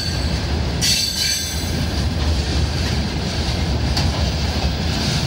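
Freight train wagons roll past a railway crossing near Mukachevo, a loud continuous rumble of wheels on rails with brief metallic squeals and clatter, close by and with no voices.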